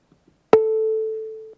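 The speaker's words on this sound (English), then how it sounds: "So let's have an exponential decay of this sine wave." A single synthesized sine wave tone starts sharply after a couple of faint clicks. It holds one steady pitch and fades smoothly under an exponential decay envelope, then stops with a soft click.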